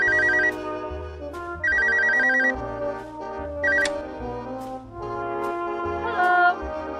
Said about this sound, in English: I kind of want to call the factory again and talk to that Scotty.